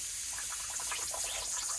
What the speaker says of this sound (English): If I let go of my thumb,